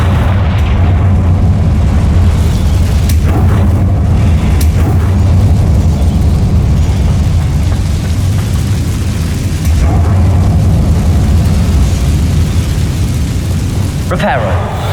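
A Confringo spell explosion in Hogwarts Legacy, a loud booming burst over a steady low rumble with a few sharp cracks, while a voice speaks.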